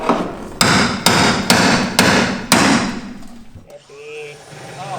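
Five loud, evenly spaced hammer blows ring out close by in a workshop, followed by softer clattering of tools while people talk.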